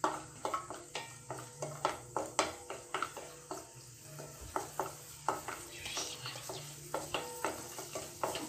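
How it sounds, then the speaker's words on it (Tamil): Cashews and raisins frying in ghee in a pan for bread halwa, with a low, continuous sizzle under regular, close-up stirring scrapes and spoon clinks against the pan. "முந்திரி பருப்பு லைட்டாக பொன்னிறம் வந்தவுடனே நம்ம கிறிஸ்மஸ் பழம் சேர்த்துக்கலாம்."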